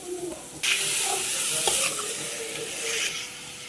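Chopped beans, cabbage and other vegetables hit hot oil in a pan for bachelor-style egg rice, a loud sizzle erupting at once and then settling into steady frying with stirring.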